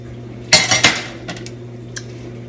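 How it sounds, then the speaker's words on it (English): A utensil scraping and clinking against a bowl while stirring a sticky peanut butter and vanilla mixture, a few sharp close strokes at first, then lighter taps fading into quiet. "Now I'm going to stir this and blend it till it is smooth"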